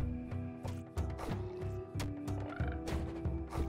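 Frog enemies croak in the side-scrolling video game Chasm, with repeated rhythmic low croaks pulsing at a steady beat over a busy, continuous game soundtrack.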